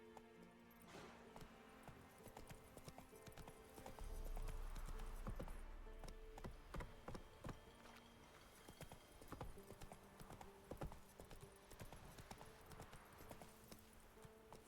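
Hooves of the horse Roach clip-clopping at a steady rhythmic gallop in The Witcher 3, faint and continuous, with a brief low rumble partway through.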